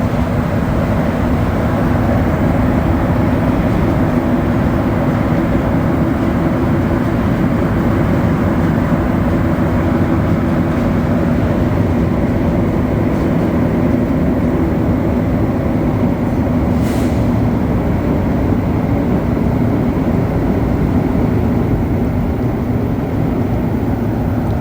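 Montréal Métro train riding along the line, recorded from the front car: a steady, loud rumble and roar of rubber-tyred running gear fills the whole stretch without pause, with no talk.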